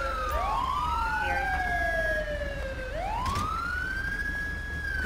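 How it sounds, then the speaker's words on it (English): A police car siren in the video game GTA 5, on a Texas State Trooper vehicle, wails loud and continuous in long rising and falling sweeps over a low engine rumble. "Let me turn off my siren."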